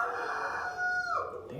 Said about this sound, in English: damn chickens.